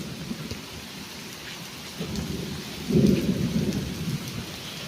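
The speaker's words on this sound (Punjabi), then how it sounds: "ਅੱਜ ਤਾਂ ਮੀਂਹ ਲੈ ਕੇ ਬਹਿ ਗਿਆ ਬਾਈ ਮੀਂਹ ਨੇ ਘੇੜ ਲਿਆ" Heavy rain pours down in a steady, dense hiss on the roads near Mandi Dabwali, with a deep rumble of thunder rolling in partway through and lingering to the end.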